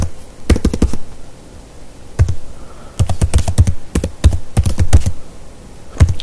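A new hostname is typed on a computer keyboard in Ubuntu 22.04. Sharp, close keystrokes come in quick bursts separated by brief pauses, loud against a quiet room, with no talking.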